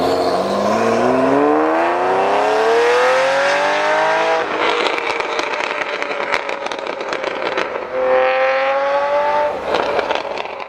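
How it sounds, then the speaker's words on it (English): A Ferrari Testarossa's flat-12 engine revs up in rising, screaming pitch through the gears, loud and close, easing off before climbing again in a second strong pull. "the engine was smooth, tractable, and screamed to the heavens when provoked"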